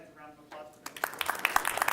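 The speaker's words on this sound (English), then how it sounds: "could you give these guys a round of applause?" Applause for guests at a Student Alliance meeting starts partway through, a small room of people clapping in quick, uneven claps that grow denser, after a brief stretch of speech.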